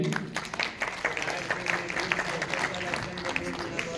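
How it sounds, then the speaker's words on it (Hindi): An audience at a farmers' honour festival breaks into loud, continuous clapping, a dense crackle of many hands, with a voice talking over it. "इनके लिए भी तालियां हो जाए पुनः जोरदार वाली"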